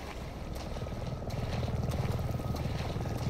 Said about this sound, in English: Damn helicopter.